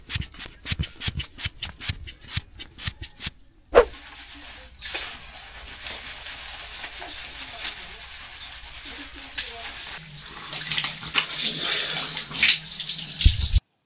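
Steady shower water spray runs for several seconds after some brief clicking and handling sounds, growing louder and hissier toward the end, close by with no talking.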